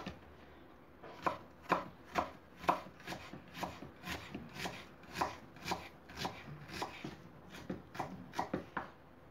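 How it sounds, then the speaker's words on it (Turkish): A knife chops half an onion on a cutting board, producing a steady run of about twenty crisp, evenly spaced chops, close and fairly quiet with no talking. "Yarım soğanımı da yemeklik doğruyorum"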